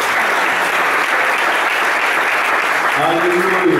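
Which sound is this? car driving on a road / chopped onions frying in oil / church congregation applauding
church congregation applauding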